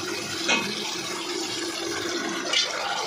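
Water poured into a fish curry cooking in a pan, a continuous close splashing rush lasting a few seconds with slight surges, no talk.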